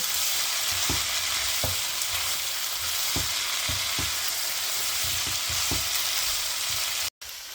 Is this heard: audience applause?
no